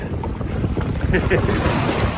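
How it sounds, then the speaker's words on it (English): Strong wind buffets the microphone in a constant roar, with waves surging beneath it at the shore. "Ooh, it's getting windy."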